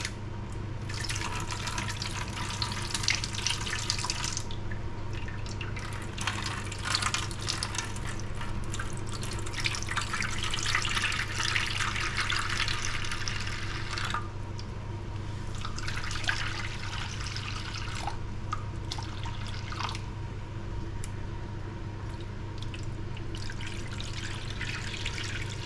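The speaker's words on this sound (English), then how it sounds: "Now I'm going to pour our watermelon granita mixture into these" Watermelon mint granita mixture is poured into trays in a long, steady liquid trickle with brief breaks and drips, close and moderately quiet, no talking.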